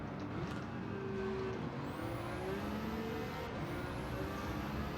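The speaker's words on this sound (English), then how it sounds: "Just got to be gentle over revving the car." A Nissan GTR R34 V Spec Nur in Gran Turismo 7, racing at Sardegna Road A, with the engine holding a steady drone and pitch sweeping up through the gears, loud and continuous without any talk.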